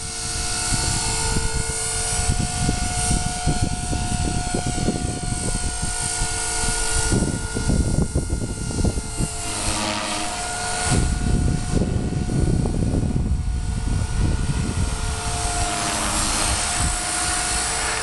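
A radio-controlled V450D01 helicopter hovers close by, its rotor and motor whining steadily with a dense buzzing roar that shifts slightly in pitch throughout.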